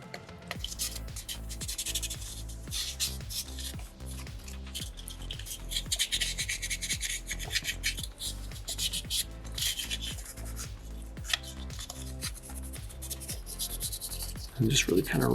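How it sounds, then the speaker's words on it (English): Sandpaper rubs around the base of a horn on a small soapstone bison carving: close, continuous back-and-forth scratchy strokes in a steady rhythm with no pauses. "just really kind of run that sandpaper around the base of that horn and on the inside as well"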